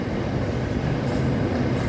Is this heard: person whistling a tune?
no